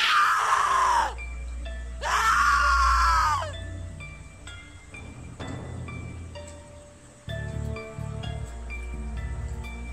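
A woman screams loudly in The Cat Lady video game, two long wailing bursts near the start, followed by quieter eerie ambient tones and scattered game sounds.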